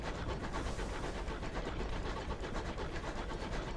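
A locomotive engine in the Sunless Skies video game gives a steady, dense rumbling roar with a faint rhythmic chugging pulse, constant and moderately loud throughout.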